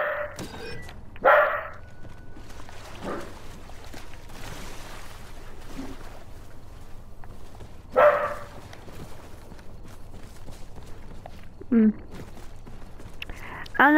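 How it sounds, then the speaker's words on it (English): A dog barks sharply several times at spaced intervals, moderately close, in a quiet room with faint background noise. "I don't know what he's barking at."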